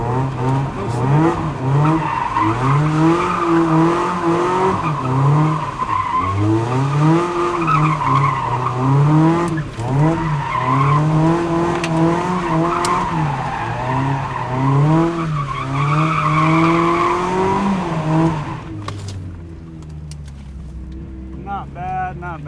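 A Mazda Miata understeering through a turn, engine droning steadily with rising and falling pitch while the tires squeal, loud and close from inside the car, with a driver talking over it before the engine note drops away.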